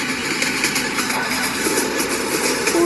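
A train engine in a video game runs steadily, a continuous mid-level rumble with faint rhythmic clatter and no pauses.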